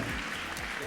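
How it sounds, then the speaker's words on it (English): Continuous crowd applause greets the startups at a startup competition finale, a short burst of dense clapping under a speaking voice. "give them all a big round of applause"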